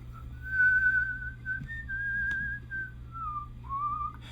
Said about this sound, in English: And yes, I am whistling